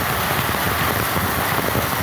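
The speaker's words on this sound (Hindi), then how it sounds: "इधर जबरदस्त ओले गिर रहे हैं" Heavy hail pours down in a dense, unbroken roar of pelting ice, loud and constant throughout with no voices over it.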